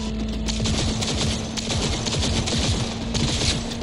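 Rapid gunfire in the video game Cyberpunk 2077, aimed at an enemy's motorbike, a dense continuous burst of shots over a low steady hum, loud and close, no talking.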